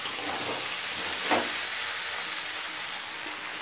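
Eggplant frying in a pan for a vegetarian bottle gourd and spinach dish, a steady close hiss of sizzling oil with one brief louder rustle partway through, no voices.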